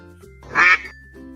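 A duck quacks once, a short loud burst of raspy quacks on a farm animal sound track, with a steady tonal background before and after.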